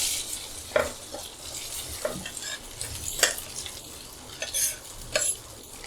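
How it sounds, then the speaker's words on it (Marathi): Cut bottle gourd muthiya fry in a mustard and sesame seed tempering, a constant oily sizzle broken by several scraping stirs of a spatula against the pan, close by. "आता त्याच्यामध्ये आपण हे कापलेले मुठिया घालायचे"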